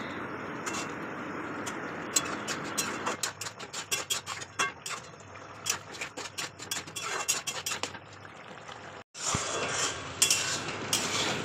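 Mushrooms stirred in a wok with a metal spoon: repeated sharp scraping clinks and clatters against the pan, irregular and close, with a short pause before the stirring resumes.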